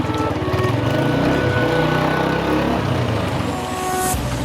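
A motorbike rides through the lanes of Neelum Colony in Muzaffarabad, its engine giving a continuous close drone that shifts slightly in pitch, with no talking over it.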